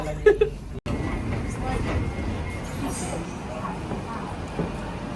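A London Underground train at Canning Town rumbles low and steady through a busy station, a continuous moderately loud drone after a brief knock and dropout, with people talking faintly over it.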